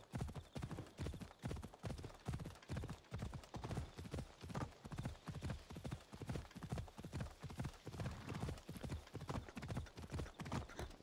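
In Assassin's Creed Odyssey, a horse gallops steadily with rapid rhythmic hoofbeats that continue throughout. The clopping is fairly close and even, with occasional faint breathy horse sounds and no talk.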